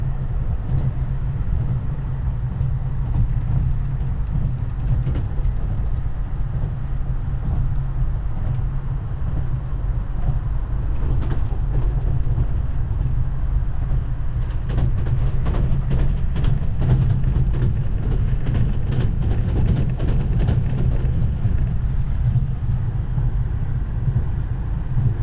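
A train bound for Kyiv, Ukraine rumbles along with a steady low engine drone and constant mechanical hum, continuous and fairly loud throughout, with no talking.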